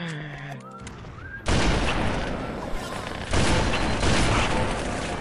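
Gunfire in Halo: Custom Edition online multiplayer, bursts of rapid weapon fire and booming shots coming from several directions after a brief tonal game sound, loud and dense.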